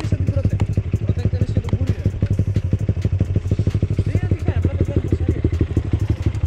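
A small motorcycle engine runs with a fast, even thudding putter, close and loud, its rhythm unchanging throughout while it sounds strained and tired, with no talk over it.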